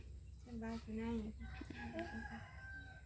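Chickens cluck and a rooster crows in a Thai rural setting, with clear harmonic fowl calls close by over steady background noise, and a few voices around.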